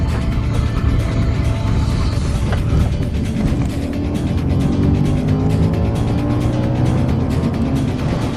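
Audi RS4 with all-wheel drive sliding sideways, its engine droning steadily with rising and falling tones while tires scrub and squeal faintly, heard from inside the car without speech.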